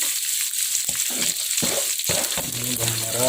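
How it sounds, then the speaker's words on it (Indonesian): Sliced shallots frying in a hot pan for a stir-fried jackfruit vegetable dish, a close, steady sizzle with intermittent scraping and stirring clicks of a utensil against the pan. "selanjutnya di sini kita masukkan irisan dari bawang merah."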